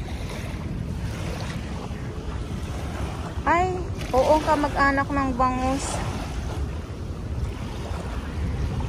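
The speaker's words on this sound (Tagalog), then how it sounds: "malakas ang hangin, malakas ang alon" Strong wind and churning waves at Manila Bay roar in a steady, broadband wash after a typhoon, loud and continuous, while people talk over it in the middle.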